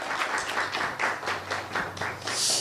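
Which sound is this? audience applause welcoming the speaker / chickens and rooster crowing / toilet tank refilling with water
audience applause welcoming the speaker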